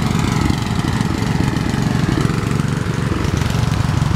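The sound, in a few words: John Deere six-cylinder engine running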